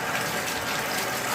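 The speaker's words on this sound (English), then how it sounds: "Get that wet with warm water" Warm water runs from a bathtub tap onto a window air conditioner filter, a loud, steady gushing splash that continues without a break, close to the microphone and with no talking over it.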